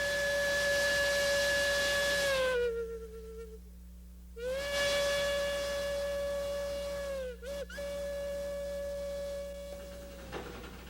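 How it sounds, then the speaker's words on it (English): A cog railway steam train's whistle sounds long and loud, dipping in pitch, breaking off briefly, then returning in a sustained harmonic blast over a steady low hiss. "when you hear that little whistle and that ch-ch-ch-ch as the trains are backing down the mountain"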